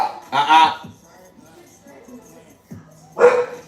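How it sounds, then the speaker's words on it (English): Dogs bark from the back of a house in two short bursts, one near the start and one near the end, with a low voice murmuring in between. "It's the dogs in the back"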